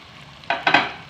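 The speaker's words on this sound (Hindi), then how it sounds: "आराम आराम से आप इसको भूनते जाइए और थोड़ा थोड़ा करके डालते जाइए" Chicken gravy frying in a pan while a spoon stirs it, with a few close scraping strokes and bursts of sizzle over a quiet start.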